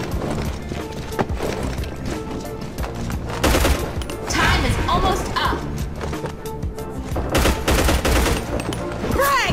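Rapid gunfire in the PvP shooter video game Hazard Ops, on a Rio favela city map, with dense bursts of automatic shots continuing throughout and a voice talking over them.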